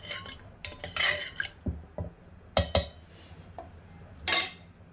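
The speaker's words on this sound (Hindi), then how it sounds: "अब इसमें डालेंगे कटा हुआ हरा धनिया और इसे मिक्स कर लेंगे" A spoon mixes chopped coriander into mashed Sindhi tridali dal, giving a few close clinks and scrapes of metal against a pot in short bursts separated by quiet pauses.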